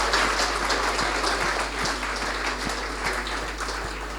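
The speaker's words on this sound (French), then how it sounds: "j'aimerais que nous applaudissions très fort pour les organisateurs." An audience at a music awards ceremony applauds the organisers, a steady wash of clapping with a few sharper individual claps standing out, heard over a constant low electrical hum in the hall.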